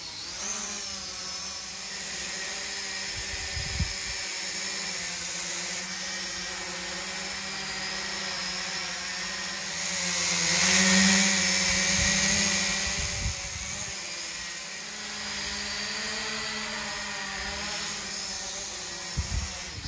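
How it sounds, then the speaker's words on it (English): A Snaptain SP510 beginner camera drone flies, its rotors making a continuous high buzzing whine that rises and swells briefly midway before settling back to a steady drone. "So that was the SP510 drone by Snaptain."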